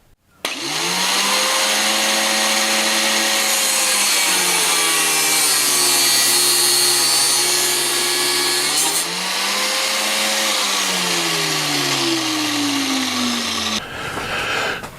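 A power tool cuts through a golf club shaft during club fitting, a loud continuous whining grind whose pitch sags and rises as the load changes, running steadily for about thirteen seconds before stopping.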